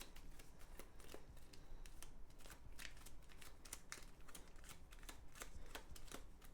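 Board game cards for a Game of Thrones board game being shuffled, giving a steady run of soft riffling clicks and flicks, close and fairly quiet, with no voices.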